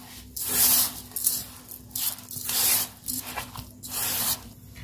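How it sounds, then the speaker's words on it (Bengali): Semolina, flour, sugar and salt are mixed into a dough by hand, producing repeated rubbing, squishing strokes in uneven bursts, close and moderately loud, with no talking. "সব উপকরণ দিয়ে দিচ্ছি, একসাথে এবার মেখে নেব।"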